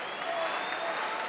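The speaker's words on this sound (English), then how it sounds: "Crowd now raising the energy in here, the Ostrava Arena again." Arena crowd at a mixed martial arts event in Ostrava applauding and cheering, a dense, steady wash of clapping and voices filling the hall without break.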